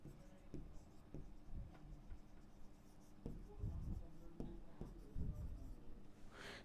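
A pen scratching on paper as a class 12 relations and functions exercise is worked through, with faint, irregular strokes and occasional taps that stay quiet throughout.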